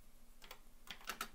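Quick light key clicks on a computer keyboard as a short command is typed, a few faint taps in a quiet room.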